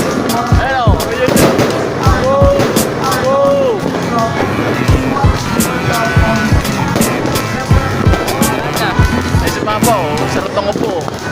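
New Year fireworks burst and crackle in a rapid, irregular string of loud, close pops and bangs, with voices mixed in underneath.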